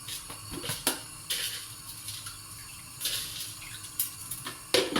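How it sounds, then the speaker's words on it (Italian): Washed potatoes are lowered into a pot of water with a pinch of coarse salt, giving intermittent splashes and sloshing with small knocks, close by and without talk. "Le patate vanno lavate prima, le immergiamo nell'acqua e aggiungiamo un pochino di sale grosso."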